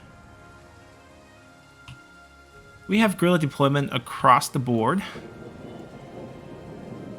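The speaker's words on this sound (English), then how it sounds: "It's raining." Steady rain with thunder in a Total War battle set around the Yellow River, a low continuous wash running through the clip while someone talks over it in the middle section.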